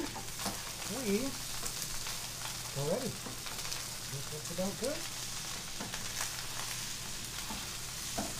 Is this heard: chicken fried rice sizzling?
yes